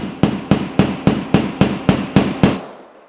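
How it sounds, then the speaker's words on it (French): Nine sharp, evenly spaced hammer strikes drive a pipe clip's plug into a drilled hole in a wall, loud and close with a short ring after each blow and no talking. "frappez sur la tête du collier pour faire rentrer la cheville dans le perçage"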